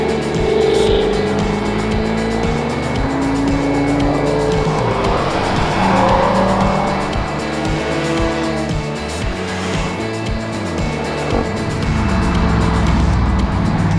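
A Mercedes Black Series with 570 horsepower driven hard on the Targa Tasmania tour: a loud engine rising and falling through gear changes, with tyre squeal and road noise throughout and no talking.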